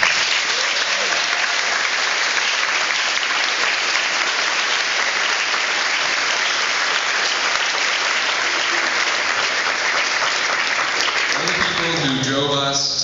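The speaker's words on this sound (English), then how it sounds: "I think we owe our parents a quick round of applause." Graduation audience applauding their parents in a large hall, sustained dense clapping that fills the whole stretch, with a voice returning to speak near the end.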